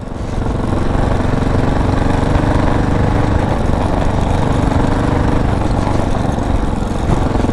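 A Kawasaki KLR 650 dual-sport motorcycle rides over bumpy gravel, its single-cylinder engine droning steadily and loudly from close by, with continuous wind and road rumble and no pauses.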